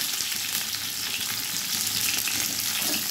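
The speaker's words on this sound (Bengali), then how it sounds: "শক্ত সবজিগুলো আগে দিয়ে দিচ্ছি। পেঁপে, রাঙা আলু আর কাঁচা কলা।" Papaya, sweet potato and raw banana pieces fry in hot oil in a pan for a mixed-vegetable labra, giving a loud, dense, continuous sizzle up close, with no voices.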